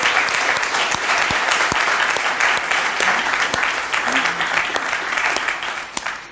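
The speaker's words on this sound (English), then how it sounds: "So if we can give them a round of applause." An audience at a school art prize-giving claps in a sustained, dense round of applause that holds steady throughout and tapers slightly at the end.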